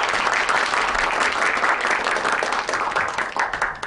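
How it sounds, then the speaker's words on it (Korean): Sustained audience applause welcoming a lecturer at a Changwon court IT lecture event, dense steady clapping from a crowd for about four seconds, trailing slightly toward the end. "뜨거운 박수로 환영해 주시기 바랍니다."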